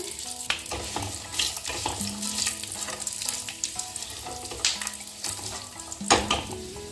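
Cashew nuts frying in a pan with oil for chira pulao, a steady crackling sizzle with occasional stirring scrapes and clinks, close and continuous throughout.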